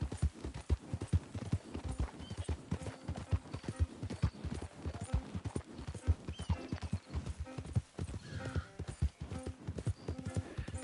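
Steady clip-clop of horse hooves on the move in Red Dead Redemption 2, a continuous moderately loud rhythmic trot with brief faint voice bits underneath.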